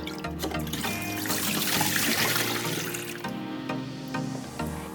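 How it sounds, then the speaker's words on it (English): Baby potatoes rinsed under a running kitchen tap, a steady trickle and splash of water over them in a sink, continuous and close, with faint clinks of potatoes handled throughout. "First, wash the baby potatoes well."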